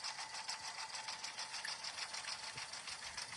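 A sewing machine stitches a notebook cover with a fast, even, rattling run of needle strokes. It holds a steady, moderately quiet rhythm the whole time with no talking.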